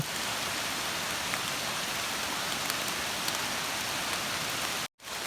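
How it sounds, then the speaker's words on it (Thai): Heavy rain pours down steadily while mushrooms are gathered outdoors, a dense, loud, continuous hiss of drops on surfaces that cuts out abruptly for a moment near the end. "ฝนตกแรงมากครับ"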